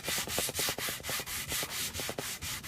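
Close, even hand sanding strokes rub across a wooden prop in a workshop, a brisk regular rasp repeating several times per second with no one speaking.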